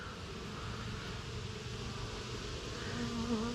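Steady, dense buzzing of many honey bees, continuous and fairly close, with a low droning hum throughout and no voices.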